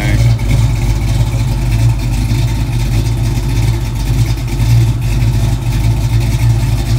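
A 1968 Ford Falcon sports coupe engine runs loudly nearby with a rough, throbbing low rumble, pulsing slightly as it is revved.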